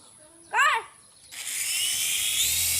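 A toy remote-control helicopter spins up into a steady, high-pitched whirring buzz that holds close by, just after a short child's vocal sound.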